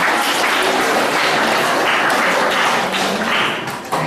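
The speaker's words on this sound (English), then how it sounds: "Give a big round of applause for him." Audience applause at a school science quiz event, a steady broadband clatter of hands filling the room for about four seconds before tapering off near the end.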